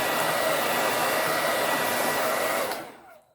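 A blow dryer running on its highest setting blows air over fresh paint on a farmhouse bunny cutting board, giving a loud, steady whoosh that runs alone for nearly three seconds and then cuts off and fades.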